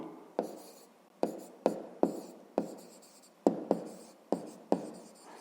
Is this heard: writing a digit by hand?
yes